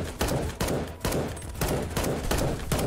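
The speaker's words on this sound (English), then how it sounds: "Who can like put their gun in full auto and just hold it steady the whole time?" Full-auto gunfire in the Fallout: The Frontier mod, a run of rapid bursts repeating roughly every half second, sharp and dense, with no talk over it.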